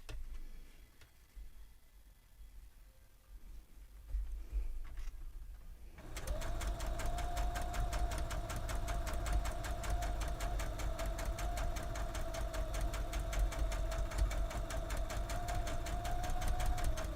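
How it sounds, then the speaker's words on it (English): A sewing machine runs steadily after a quiet start, stitching a seam across a dryer sheet laid on doll sundress fabric, with a fast, even mechanical whir and tick that holds for about eleven seconds. "I'm going to sew a stitch across."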